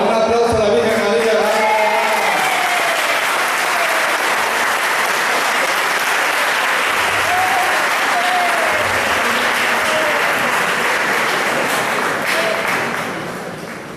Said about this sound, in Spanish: Ahora un aplauso a la Virgen María.